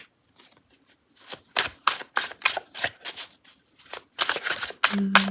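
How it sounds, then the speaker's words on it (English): A tarot deck is shuffled in repeated quick riffles, crisp bursts of snapping paper in uneven rhythm, close and fairly loud, ending with a brief low hum. "Keep forgetting how much I like shuffling this deck."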